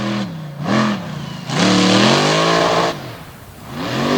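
Bucking Bronco monster truck, a 92 Ford body with a Richard Midget motor, revving hard at a monster truck show in Bangor, Maine; loud surging engine bursts rising and falling in pitch, with a long sustained full-throttle pull in the middle.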